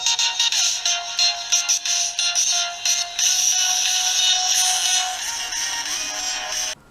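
A song plays through the small built-in speaker of an RCA Viking II 10.1-inch tablet. It sounds thin and bright with almost no bass, running steadily for several seconds with no talk.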